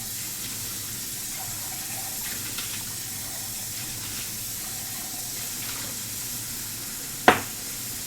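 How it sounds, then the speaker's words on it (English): Tap water runs steadily into a kitchen sink while a pan is rinsed, a constant close, even wash of water ending in one sharp metallic clink. "So let me rinse out this fast."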